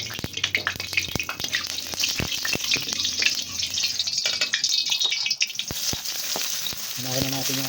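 Onion and garlic sauté in hot oil in a pan for Filipino adobong puti, a steady close sizzle broken by sharp clinks and scrapes of a utensil against the pan.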